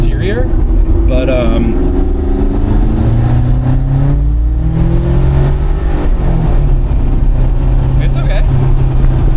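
A 1995 turbocharged V8 car engine accelerating, a loud sustained rising drone from inside the cabin with the pitch climbing through the gears, while a person talks briefly over it.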